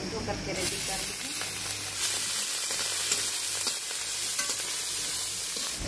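Snail meat dropped into a pan of onion already fried with bay leaf, sizzling and spluttering loudly and steadily close up, with stirring scrapes throughout and no talking.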